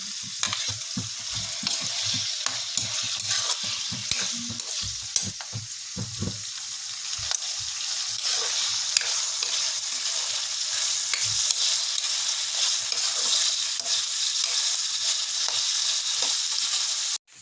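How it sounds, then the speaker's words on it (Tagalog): Onions sizzle steadily in a hot pan while cooking Bicol Express, with a constant bright frying hiss and occasional stirring scrapes, close and continuous with no talk. "Sibuyas, ilagay na natin."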